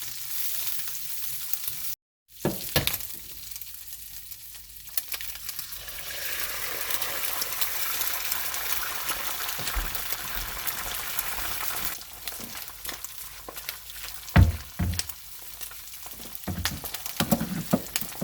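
Onion slices fry in a carbon steel pan with a bright, continuous sizzle, broken by a brief gap near the start and by a few knocks and scrapes toward the end.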